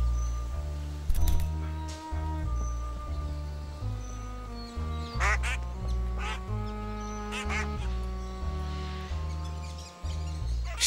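A duck quacks loudly and repeatedly at close range, giving a run of harsh nasal calls in uneven bursts across the whole stretch, alone with no talking.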